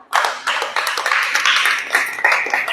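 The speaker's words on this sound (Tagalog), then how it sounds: "Palakpak." A crowd claps steadily, dense and close, with many hands overlapping into a lively round of applause.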